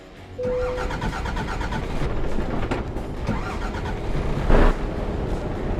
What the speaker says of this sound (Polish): Odpalmy to, zobaczymy czy się odpali w ogóle.